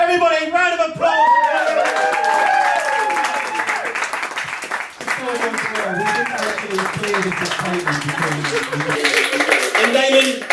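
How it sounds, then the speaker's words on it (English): A studio audience at a comedy quiz show breaks into loud, dense applause that carries on for around ten seconds, with cheers and whoops rising above the clapping. "Everybody, round of applause."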